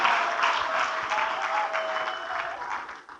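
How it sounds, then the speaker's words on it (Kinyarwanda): A crowd claps at a church wedding ceremony, dense steady applause held at an even level before tapering off at the end. "Amashyi menshi."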